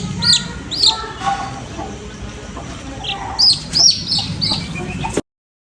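Young chicks give a few short, high peeping chirps near the start and again toward the end while poultry are being given Lasota vaccine mixture, over a busy low background.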